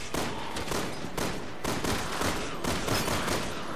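Dense rapid gunfire in Resident Evil 6, loud, sustained volleys of shots running continuously with slight pulsing gaps, no voices over it.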